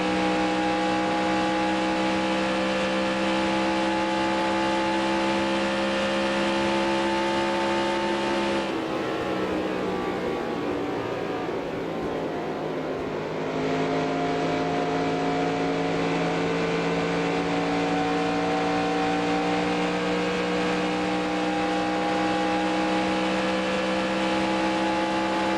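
Stock car engines in NASCAR Racing 2003 at Michigan hold a steady, loud, sustained whine from the in-car view, briefly dipping and shifting pitch midway before returning to a constant drone.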